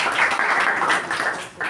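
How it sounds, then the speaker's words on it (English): A short burst of applause from a group at a Toastmasters meeting, dense clapping that swells and dips briefly. "can we have a round of applause?"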